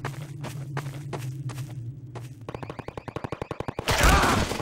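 Gunfire in the video game Trouble in Terrorist Town: soft footsteps give way to a rapid run of sharp shots, then a loud final burst, with no talking.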